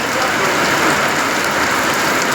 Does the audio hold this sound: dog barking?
no